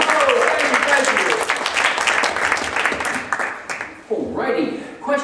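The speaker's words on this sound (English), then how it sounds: "Another round of applause for this little lady right there." Audience applause fills the room, dense clapping that swells and then tapers, with a voice talking near the end as it fades.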